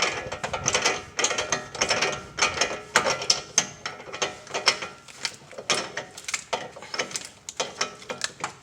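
A wheel bearing tool is ratcheted tight on the front hub of a BMW 325i, producing a steady run of close, sharp mechanical clicks in quick bursts. No one talks.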